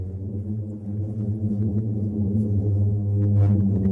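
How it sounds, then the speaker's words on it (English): A singing sand dune in the Sahara: a steady low droning hum with layered tones, like a deep sustained roar, swelling slightly and continuing unbroken throughout. "That is actually the sound of a sand dune as we say, singing."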